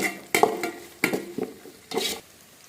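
Onions are stirred in a hot pan while frying for a village-style fish gravy. A utensil scrapes and clatters in about four separate bursts against a low, quiet sizzle, with no talking.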